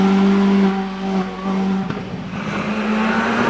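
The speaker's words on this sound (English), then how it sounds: "And that's Tim Cross in the Renault Twingo." Renault Twingo rally car on a hillclimb, its engine holding a steady droning note that shifts pitch partway through, loud and close without any voices over it.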